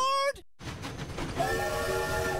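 Cheerful train sound effect from a children's TV program break, with whistle-like tones over a rumbling rolling rhythm after a brief gap, loud and close.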